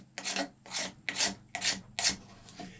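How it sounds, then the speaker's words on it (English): Blade scraping a cow horn while making a simple powder horn: five steady rasping push strokes in an even rhythm, close and fairly loud, with brief pauses between each stroke and no talking. "I'm not carving, I'm not whittling, I'm just pushing. That's the key to scraping."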